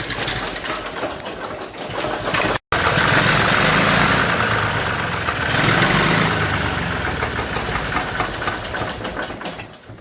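A 1961 Nuffield Universal 3 tractor engine runs loud and close after a head gasket job, a steady mechanical clatter that swells and surges as the throttle opens, with a brief cutout early on.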